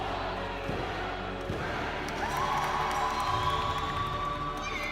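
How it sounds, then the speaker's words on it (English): A crowd around a wrestling ring cheers and shouts in a continuous, reverberant roar that swells midway, with excited higher voices rising above the mass. "The two stand in the ring, arms aloft as the crowd erupts again."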